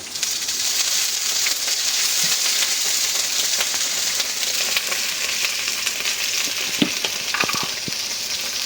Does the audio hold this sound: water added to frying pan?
yes